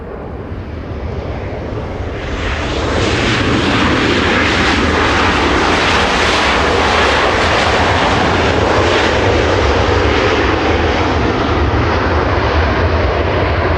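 A United Airlines jet roars past at an airport, a loud, broadband engine rush that swells over the first few seconds and then holds steady and close for the rest of the pass.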